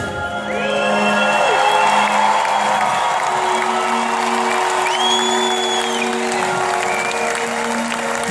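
A large concert crowd at a show in Agen shouts and cheers loudly and continuously, with rising and falling voiced whoops and sustained yells over a dense roar of applause and noise.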